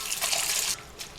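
Spinach greens being rinsed under water, a brief splashing wash that quiets after a moment, then a short final splash.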